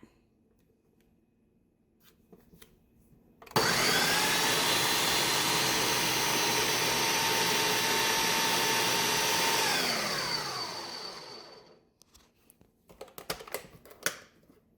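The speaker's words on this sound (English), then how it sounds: "I blend all the liver in my food processor" Raw liver for homemade dog food being pureed in a food processor: a loud, steady motor whir starts abruptly, holds for several seconds, then winds down, followed by close clattering and tapping.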